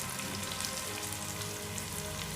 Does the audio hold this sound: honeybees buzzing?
no